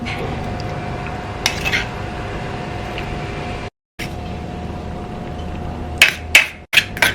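Utensils clinking and scraping against a bowl while shrimp paste dip is scooped in a home kitchen, with several sharp metallic clicks near the end.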